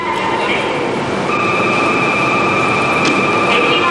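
A Japanese Shinkansen high-speed train in 1990 running at speed, a loud continuous rushing roar with sustained high whining tones, heard close throughout.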